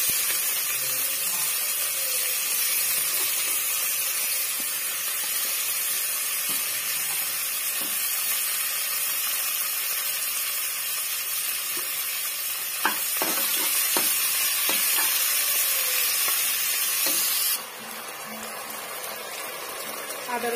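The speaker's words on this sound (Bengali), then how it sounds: "একটু জিরে ফোড়ন দিয়ে দেওয়া হলো" Cumin seeds crackle and sizzle in hot oil as a dish is cooked, a steady broad hiss with scattered sharper pops and stirring scrapes, close and continuous for the whole stretch; the hiss thins a little near the end.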